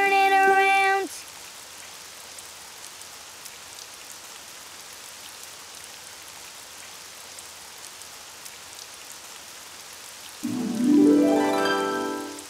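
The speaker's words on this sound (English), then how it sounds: "Oh, it's raining outside." Steady rain hisses and patters throughout, with short tonal voiced sounds at the beginning and end over the constant downpour.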